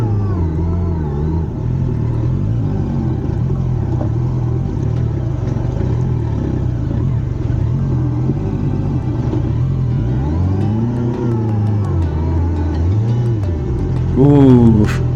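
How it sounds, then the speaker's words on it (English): A motorcycle revs its throttle to climb out of a muddy trench in a Kenyan village, the engine rising and falling in repeated surges up close, ending in a sharp high rev. "then pull the throttle and let it slide out of the trench"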